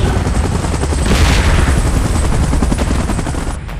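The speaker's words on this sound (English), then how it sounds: "Chopper in position." Helicopter flying in a monster-battle scene, a loud, close, rapid rotor chop pulsing steadily under broadband engine roar, continuous with no speech.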